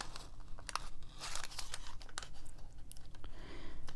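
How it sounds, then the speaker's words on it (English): Scissors trimming a paper photo make quiet, quick snipping and crinkling sounds in short irregular bursts, close up and alone. "I'm going to go ahead and trim that"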